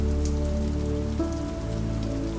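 Rain on a window gives a steady wash of drops against the glass, mixed with a sustained tonal hum that shifts partway through.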